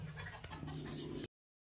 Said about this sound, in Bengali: চলুন আমরা এগুলোকে আমাদের মুরগিকে দেই, দেখি ওরা কেমন করে খায়।